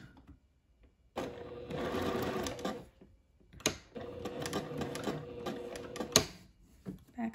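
Sewing machine stitching a quarter-inch seam on a sundress, two loud bursts of steady mechanical whirring separated by a short pause, with small handling clicks between runs.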